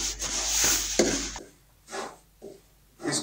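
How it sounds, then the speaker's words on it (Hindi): A spoon stirs semolina roasting in a pan for halwa, making close rhythmic scraping and rubbing strokes in bursts with short pauses between them and no talk. "चमचे को मुसलसल चलाएंगे, इसको रोकना नहीं है"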